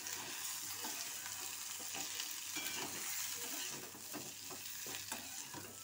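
An egg frying in a pan over already-fried tomatoes gives a continuous sizzle with stirring scrapes, moderately quiet and steady, with no talk.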